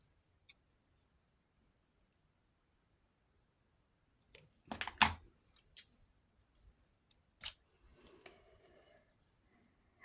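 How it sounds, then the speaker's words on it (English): Scissors snip out a small paper label for a handmade journal, a few close, crisp cuts clustered together between stretches of near silence. "I think I might like to put a little label on. I can never cut these things out straight."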